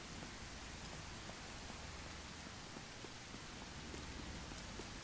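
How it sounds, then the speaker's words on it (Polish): Rain in the zombie survival game SurrounDead, a faint, steady hiss of falling rain with no distinct drops or thunder, continuous and distant. "Nie wiem, czy deszcz w ogóle coś robi, czy powinienem unikać deszczu"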